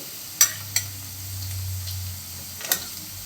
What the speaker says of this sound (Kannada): ಈಗ ಒಂದು ಐದು ನಿಮಿಷ ಫ್ರೈ ಮಾಡ್ಕೊಳ್ಳೋಣ ಬೀನ್ಸು ಮತ್ತು ಕ್ಯಾರೆಟ್ ಹಾಕ್ಕೊಂಡಿದ್ದೀನಿ